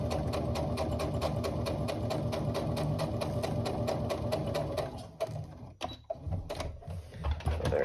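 Sewing machine top stitching across the top of a tote bag, a fast steady chatter of needle strokes for about five seconds, then stopping with scattered clicks and handling noises, close and clear.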